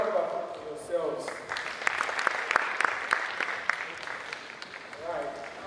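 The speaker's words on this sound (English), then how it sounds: "So now a round of applause for yourselves." Applause from a workshop audience at a digital skills training session, building from scattered claps into a dense, sustained burst of clapping, with some voices talking over it before and after.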